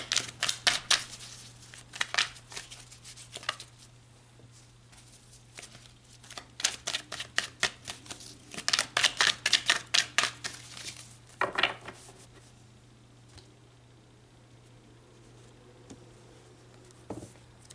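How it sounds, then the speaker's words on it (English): Tarot cards being shuffled and handled, close crisp bursts of riffling and flicking that come and go with quiet pauses between, alongside a faint steady hum and no talking. "So let's pull some more cards."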